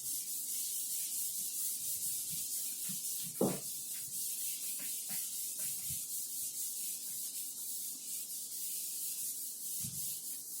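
Eraser or cloth rubbing writing off a classroom board during a physics lesson, a steady close scrubbing rasp running the whole time with a single louder knock partway through.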